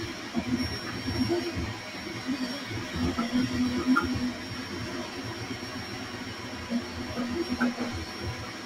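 A Creality K1 Max 3D printer runs with a steady mechanical whir and low hum, its motors and fans churning continuously with small ticks, close by and with no voices.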